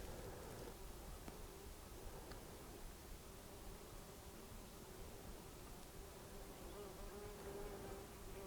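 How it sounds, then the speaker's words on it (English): Bees buzz around a hive dug into the ground near a pond in Pacific Northwest woods, a faint, continuous droning hum that holds steady throughout. "nearly stumbled across this beehive in the ground."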